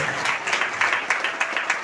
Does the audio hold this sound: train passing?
no